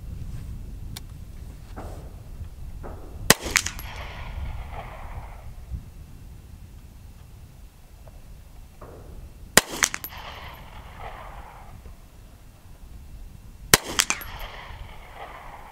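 Three sharp rifle shots from a Hi-Point rifle firing Winchester 95 grain full metal jacket ammunition, spaced several seconds apart at an outdoor range, each crack loud and close with a brief echo trailing off.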